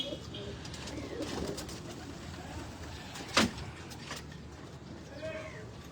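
A Jonsire breed pigeon cooing in a breeder's loft, a soft low coo heard faintly amid quiet background, with a sharp click midway and someone talking nearby.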